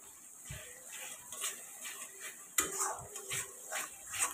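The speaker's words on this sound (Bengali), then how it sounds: "টক দইটা দিয়ে ভালো করে নাড়াচাড়া করে নিতে হবে।" Sour yogurt being stirred into a spicy fish curry in a pan: repeated clinks and scrapes of a spoon against the metal over a soft background hiss, fairly quiet and close.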